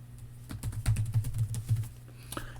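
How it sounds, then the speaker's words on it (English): Quick, close keystrokes on a computer keyboard tap out a short burst of typing, a dozen or so clicks in an uneven rhythm over a quiet room. "I'm going to type birthday."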